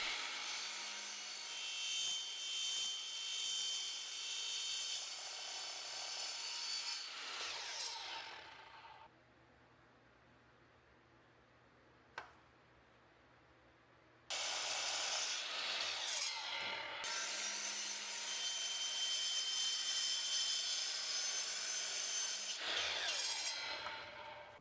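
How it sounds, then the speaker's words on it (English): Miter saw slicing through clamped wooden face frame pieces for a bathroom vanity, loud broadband cutting noise with a motor hum, a quiet gap mid-clip, then a second long cut. "So I just clamp them together, cut them on the miter saw."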